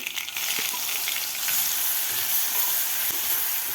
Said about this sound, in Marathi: आता व्यवस्थित आपल्याला हे वाटण परतून घ्यायचं आहे